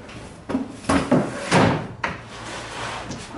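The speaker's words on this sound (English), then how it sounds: "We already have drawer boxes for this cabinet, so I'm going to go ahead and slide them in" Drawer boxes slide into a frameless base cabinet on tandem runners, producing several rolling glides and thumping bumps as each seats, close and moderately loud.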